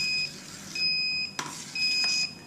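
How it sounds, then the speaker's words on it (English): A Grainfather all-grain brewing machine sounds three high-pitched warning beeps, evenly spaced, with a faint clunk between them against quiet background noise, while brewing a stout. "Sorry about the beeping there, but it's just a warning."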